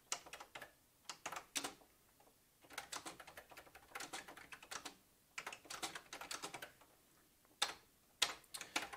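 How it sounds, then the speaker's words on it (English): An electronic typewriter on a word processor strikes bold characters. Bursts of rapid, sharp clacks come in irregular clusters separated by short pauses, close and fairly quiet, with no voices. "it will print the letters in bold multiple times, moving the print head a little bit each time"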